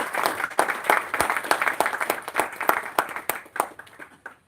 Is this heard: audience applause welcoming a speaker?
yes